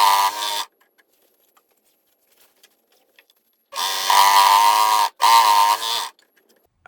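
Sewing machine running a zigzag stitch close to the fabric edge in the seam allowance, loud buzzing mechanical drone in three bursts: a brief one, then two longer runs separated by silence.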